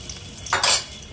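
Pomfret fish frying in a pan, heard as a short loud hiss of sizzling oil that swells and fades within a second over quiet kitchen background, no speech.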